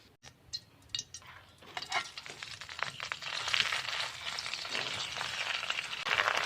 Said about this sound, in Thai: เจียวกระเทียมให้เหลืองหอมก่อนนะเจ้า